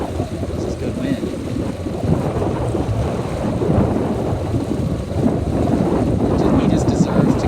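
Strong wind buffets the microphone during a youth Sabot dinghy race, a loud continuous rushing roar with water and boat noise beneath, steady and close throughout.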